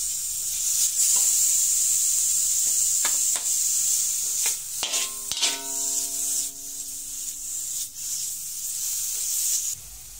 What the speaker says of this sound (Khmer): ជីដំបូងយើងធ្វើការចាក់ខ្លាញ់ចូលយើងជ្រៀតវាឲ្យចេញជាតិខ្លាញ់